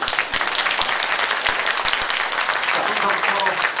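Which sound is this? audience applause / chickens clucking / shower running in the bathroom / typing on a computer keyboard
audience applause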